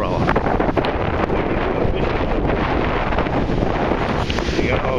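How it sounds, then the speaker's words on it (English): Strong wind buffets the microphone in a loud, continuous roar, rumbling and gusting steadily throughout. "Too windy for your umbrella."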